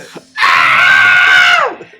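A voice imitates a fleeing mole man's scream in a woodland fantasy tabletop role-playing game, one loud, sustained, strained shriek lasting over a second and falling away at the end.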